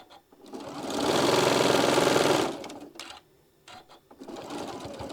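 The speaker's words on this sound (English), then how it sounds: "I'm going to kind of give it a couple stitches, get these points to match up" A sewing machine stitching a quilt block seam runs in a loud, close, steady burst for about two seconds, then stops, followed by a few softer clicks and handling noises and a quieter short run.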